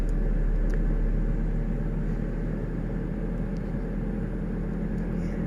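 A pickup truck engine holds a steady idle-range hum at about 1,500 rpm, a loud, unbroken low drone heard from inside the cab with faint ticks above it.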